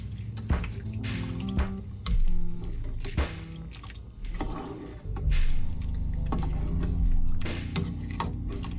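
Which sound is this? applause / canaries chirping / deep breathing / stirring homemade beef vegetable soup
stirring homemade beef vegetable soup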